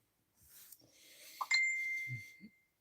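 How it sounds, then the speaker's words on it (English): A doorbell at a house gives a short clear ding and a sustained ringing tone, fairly close, with faint shuffling and a few soft noises around it. "Someone ringing the doorbell."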